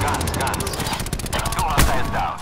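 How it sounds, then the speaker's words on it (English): Rapid 30 mm aircraft cannon fire from a Call of Duty: Black Ops 4 aerial attack, a loud, dense stream of closely spaced shots with a sharp blast near the end. "30 millimeters spinning up, going hot."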